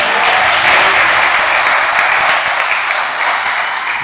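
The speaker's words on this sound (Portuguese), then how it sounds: "Peço à igreja que aplauda ao Senhor." A church congregation claps for the Lord during a worship service, a loud, dense wash of applause that holds steady from start to finish and eases slightly toward the end.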